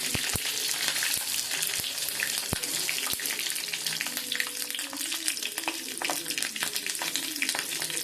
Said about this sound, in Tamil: இப்போ ஃபைனலாக நான் கடுகு போடுறேன். பச்சை மிளகாய் 2 கிள்ளி போட்டுக்கிறேன்.